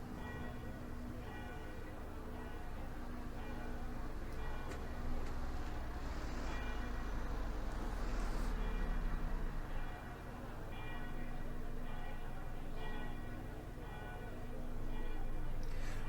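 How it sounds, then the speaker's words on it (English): Distant German church bells ring softly in the OMSI 2 bus simulator beneath a steady low engine rumble of a Wright Routemaster bus, with the bell tolls blending into the background hum. "The German church bells ringing there in the background"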